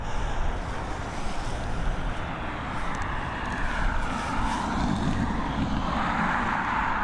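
An Airbus A321neo airliner arriving at Dublin Airport from Bucharest: a broad, rising jet roar swelling as it approaches, heard from a distance through wind noise, steady and continuous without voices.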